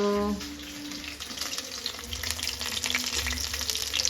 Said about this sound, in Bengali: এখন আমি পাকোড়া ভাজছি